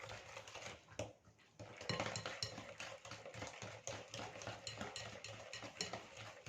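Cake batter is stirred in a bowl, giving a continuous rhythmic scraping and tapping of a utensil against the bowl at moderate, close-up loudness, with no talking.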